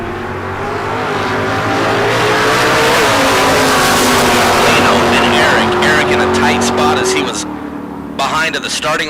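Drag race cars, a Mustang and a Vega, launching at a strip with a loud sustained engine roar that rises in pitch as the cars accelerate away, then breaks into crackling, while a track announcer talks over the noise.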